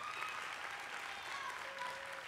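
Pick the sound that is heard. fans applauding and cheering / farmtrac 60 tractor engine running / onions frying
fans applauding and cheering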